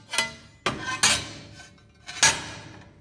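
A flat stainless steel art piece being flipped over on a hard surface, giving a few sharp metallic clanks and clinks spaced irregularly, close and fairly loud with no talking.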